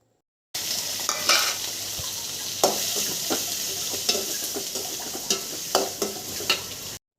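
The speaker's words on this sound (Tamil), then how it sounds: "பொடியாக நறுக்கி வச்ச 100 சின்ன வெங்காயம், கொஞ்சோண்டு கருவேப்பிலை ஆட் பண்ணி நல்லா வதக்குங்க." Shallots and curry leaves sautéing in groundnut oil in a heavy pan, with a steady close sizzle broken by repeated scraping stirs throughout.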